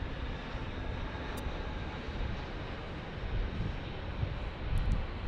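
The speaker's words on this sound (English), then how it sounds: "It's just an A321" A JetBlue Airbus A321 airliner at Los Angeles International Airport gives a continuous broadband jet roar that swells slightly toward the end, heard from a distance outdoors with no talking.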